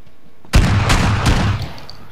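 A single loud grenade blast in the battle royale game PUBG, a sudden booming burst that rumbles and fades over about a second, close and without speech.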